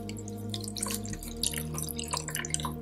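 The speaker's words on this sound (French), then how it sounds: "je mets de l'eau à 45 degrés" Warm water at 45 degrees pours from a container onto white sugar, a close burbling and splashing with some bright dripping, steady for a few seconds.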